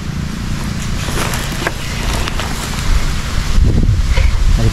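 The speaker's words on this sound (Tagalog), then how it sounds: "Yan o, grabe yung hangin no." Strong wind buffets the microphone outdoors with a constant loud rumbling roar, gusting harder toward the end, with faint scattered knocks and movement beneath it.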